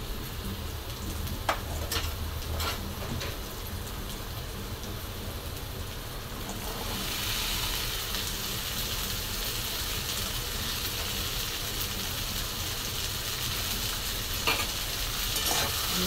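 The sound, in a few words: cut okra added to a pan and frying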